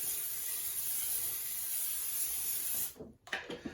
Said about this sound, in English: spray some vegetable oil into the crock pot